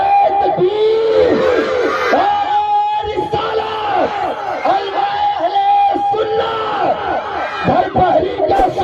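A large crowd chants the Naara-e-Takbir religious slogan in loud, rhythmic unison, voices rising and falling in repeated call-and-response waves with some shouting mixed in.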